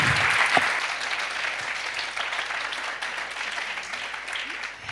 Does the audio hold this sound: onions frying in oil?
no